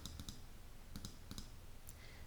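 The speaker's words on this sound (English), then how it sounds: "So we are just gonna click on the mouse." An Apple Magic Mouse 2 gives a handful of quiet, close clicks, mostly in quick pairs spaced across a couple of seconds in an otherwise hushed room.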